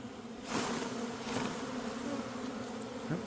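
Bees from a hive hidden in the ground hum in a dense, steady swarm, close and continuous, swelling slightly as the buzzing thickens.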